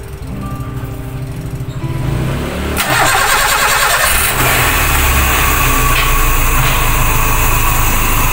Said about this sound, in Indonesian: langsung mobilnya bisa menyala